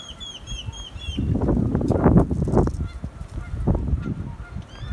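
Geese honk a few times at a pond at Tule Springs Ponds, then there is a close burst of wing flapping and splashing that fades and returns.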